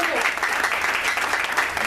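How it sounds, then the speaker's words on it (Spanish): A church congregation claps loudly during a sermon, a thick, continuous burst of many hands with voices mingled in the noise. "den un aplauso fuerte al Señor"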